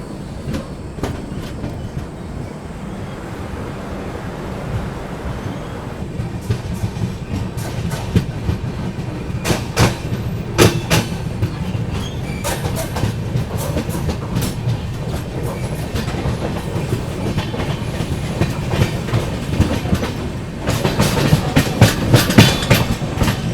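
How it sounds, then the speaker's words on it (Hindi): The 15128 Kashi Vishwanath Express rolls out of Hapur Junction, heard from inside a 2AC coach: a steady rumble with rhythmic clickety-clack of wheels over rail joints, growing louder toward the end. "चलिए दोस्तों निकल चुकी है अपनी ट्रेन जो है हापुड़ जंक्शन से"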